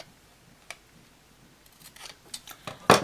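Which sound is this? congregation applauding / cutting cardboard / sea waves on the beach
cutting cardboard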